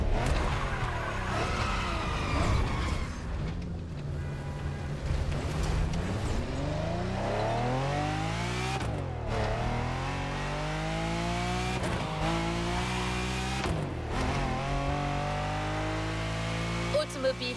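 A Lamborghini Diablo in a racing game revs hard through rising engine sweeps and gear shifts, the tone climbing and dropping several times, loud and steady with faint talk underneath.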